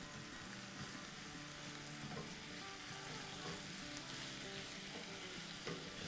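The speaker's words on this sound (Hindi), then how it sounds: "अपनी चिकन बुला रही है हमें, सिजल का साउंड आ रहा है।" Thin slices of chicken sizzle and fry in a pan for a no-oven chicken pizza, a steady close crackling hiss that runs unbroken throughout with no voices.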